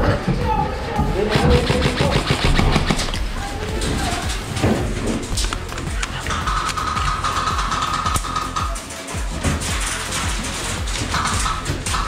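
Rapid gunfire from a firefight in the tactical shooter game Grimnir Tactical Anthropos II, with sharp bangs and shots crackling continuously over a dense battle din while voices talk over it.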